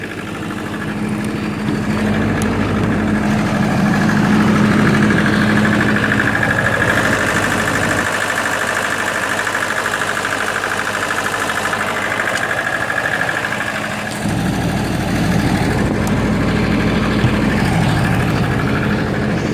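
A 1995 Libby MEP-803 10 kW military diesel generator runs at a steady idle, its enclosed engine making a fairly quiet, even drone with a low hum, heard nearby and without talk.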